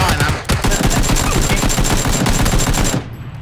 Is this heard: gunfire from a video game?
yes